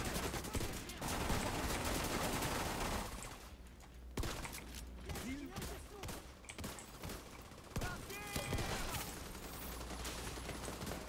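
Heavy gunfire in The Division 2, a dense fusillade of rapid shots filling the first few seconds, then scattered bursts and single cracks amid game effects and background combat noise, fairly loud throughout.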